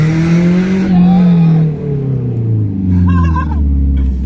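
A straight-piped Toyota Camry launches hard, its loud nearby exhaust dropping and surging through the gears while a brief tire squeal rises partway through and voices shout faintly in the background.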